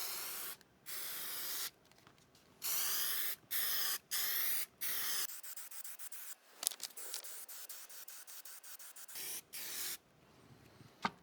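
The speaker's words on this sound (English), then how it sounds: "We're going to put a little spray on each end and on each side." Aerosol can hissing in short, repeated bursts onto a sound blanket for a noisy air conditioner compressor, with several loud sprays separated by pauses, then quieter rustling and handling of the blanket.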